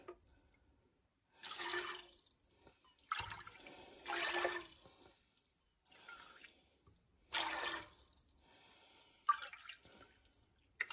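Water is poured into a cooking pot for black beans in several separate bursts, each a splashing gush lasting a second or two with quiet pauses between, close and moderately loud.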